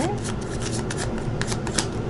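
A deck of tarot cards is shuffled steadily and close by, with a continuous papery riffling and rubbing and crisp flicks repeating throughout.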